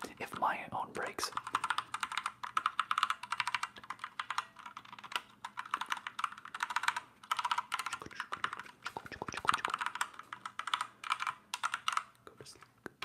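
Soft, rapid keystrokes on a computer keyboard tapped close up for ASMR, continuing in steady bursts over the whole stretch with faint whispering mixed in.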